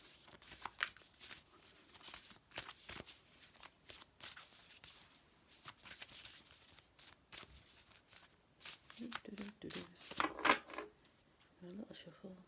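Tarot cards are shuffled by hand in repeated bursts of riffling and flicking up close, with quiet speech in between.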